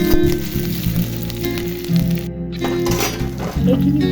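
Chopped green chili frying in a pan over lowered heat for coconut poha, a loud close sizzle with crackles and a brief metallic clink, steady throughout.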